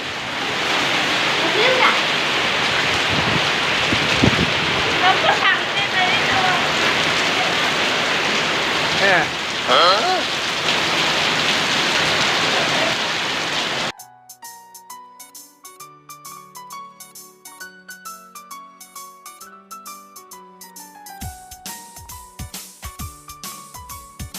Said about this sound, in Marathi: पाऊस पडायला लागला बघा किती जोरशात